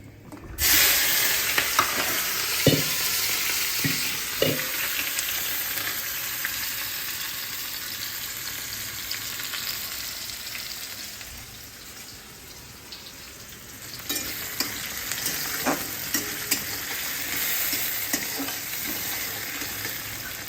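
Poha tempered with cumin, sesame and peanuts frying in a kadai, a loud, continuous sizzle with occasional scraping stirs, easing off midway, then returning with more frequent stirring taps.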